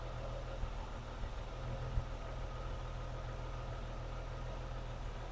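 A BMW E36 M3 engine idling, a steady low rumble with a faint whirring hum, a few small ticks and no talking.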